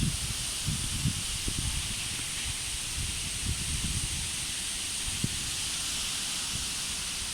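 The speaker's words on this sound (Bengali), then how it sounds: "এখন বাতাস তীব্র গতি সম্পূর্ণ হয়ে, কি সুন্দর বাতাস হচ্ছে" Wind gusts hiss steadily through bamboo leaves during a rainy spell, a broad constant rush with soft low rumbles and faint rustling throughout.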